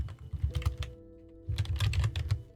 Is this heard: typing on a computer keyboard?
yes